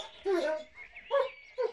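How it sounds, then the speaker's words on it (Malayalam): A dog barks three times close by, short sharp yaps spaced across a brief moment, standing alone without talk. "അതല്ല ശരിക്കുള്ള പട്ടി."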